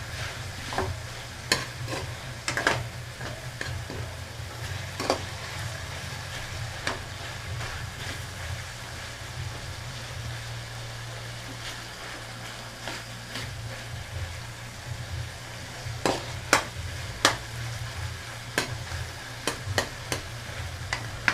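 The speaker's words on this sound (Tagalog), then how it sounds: "Medyo pisain natin ng konti yung kamatis" Tomatoes frying in a pan for a menudo dish are stirred and mashed, giving a continuous sizzle under repeated scraping and clacking strokes of a utensil against the pan, close and fairly loud.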